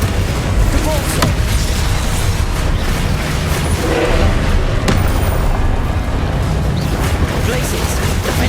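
A Confringo fire spell from the Hogwarts Legacy video game bursts out as a loud, dense boom, with sharp impacts near 1 and 5 seconds over a continuous rumbling wash of combat noise and no speech.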